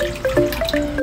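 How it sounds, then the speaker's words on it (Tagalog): Water poured over rice in a pot during home rice cooking, a short splashy trickle with dripping and faint clinks, close and clear, with no voices. "Ngayon, ibuhos natin ang pinagugasan sa bigas."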